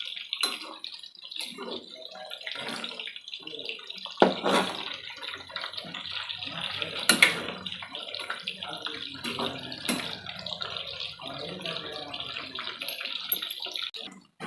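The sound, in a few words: chicken kebab frying in oil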